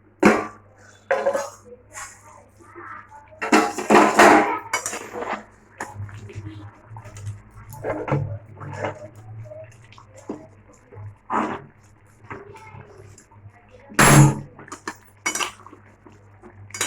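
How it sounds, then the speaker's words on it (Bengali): A metal lid set onto a cooking pot of meat simmering on a lowered gas flame gives clanking clinks and scrapes at close range, with a sharp knock near the end over a low steady hum. "আবার ঢাকাটা দিয়ে দিলাম"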